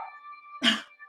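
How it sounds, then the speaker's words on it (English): A man sneezes once, a sharp loud burst rising abruptly out of a quiet room with a faint steady tone running underneath. "I'm going to sneeze."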